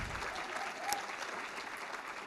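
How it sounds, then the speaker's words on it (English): A large crowd at an all-staff rally claps steadily in sustained applause for Hero Award winners, a dense, even patter throughout. "Can we give them up one more round of applause for all of them?"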